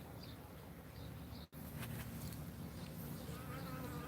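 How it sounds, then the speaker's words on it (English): A bee buzzes around a cucumber bed in a late-spring garden, a faint, steady drone under broadband outdoor noise, close to the microphone and interrupted by a brief dropout. "Can you see the bee buzzing?"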